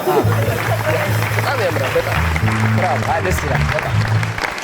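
A studio audience at an Ethiopian TV comedy show claps steadily through the whole stretch, the applause sitting beneath loud, continuous talk.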